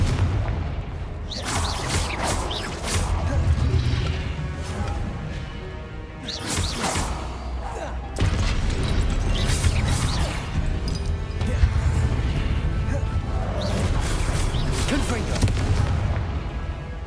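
Confringo fire spells blast in the video game Hogwarts Legacy, a loud run of booming crashes and swooshing impacts over dense, continuous game noise, with some talk mixed in.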